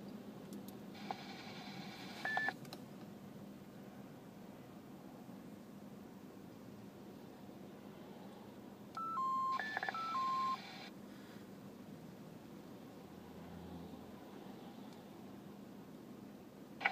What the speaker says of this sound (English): I was just letting the repeater over here give its station identification